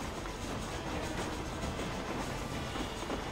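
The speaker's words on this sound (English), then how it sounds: "I wonder what we're doing with this train." A train rolls steadily along the tracks in the video game Red Dead Redemption, a continuous low rumble with faint rhythmic clatter at moderate volume.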